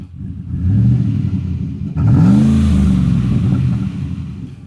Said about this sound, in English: exhaust. You're making a little bit more noise, nothing too crazy. Flowmaster 40 series muffler.